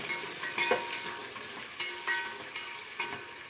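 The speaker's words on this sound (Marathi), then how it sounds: "असं टाकलेलं आहे तेल आणि तो आपण तोप तापायला ठेवलेला आहे" Oil heats in a pan with a soft, steady sizzle, while light taps and scrapes of a utensil sound at uneven intervals close by, with no one talking.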